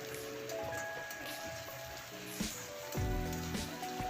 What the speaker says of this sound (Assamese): জুই কমাই ভালদৰে ভাজি ল'ম এইখিনি